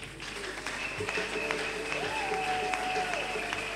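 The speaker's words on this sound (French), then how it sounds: "Sous nos acclamations." Guests at a wedding blessing ceremony break into applause for the couple, a steady wash of clapping from a crowd indoors with voices and a brief rising tone mixed in.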